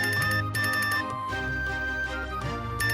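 A mobile phone ringtone plays a loud, repeating electronic melody in pulsing bursts, close and alone without speech.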